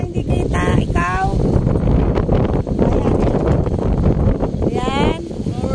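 Strong wind rushes past the microphone on a high, exposed spot overlooking Caliraya, a loud, constant buffeting roar while people talk over it and bird-like chirps flicker briefly.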